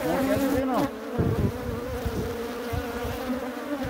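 Honeybee swarm inside a nucleus hive box, a dense, steady buzzing drone heard close and alone, with a brief louder surge near the start.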